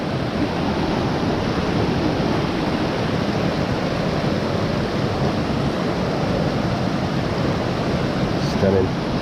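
Water rushes past a bridge on the Watkin Path on Snowdon, a loud, steady, unbroken roar filling the whole stretch.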